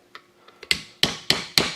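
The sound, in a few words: tapping F150 wheel seal into place with hammer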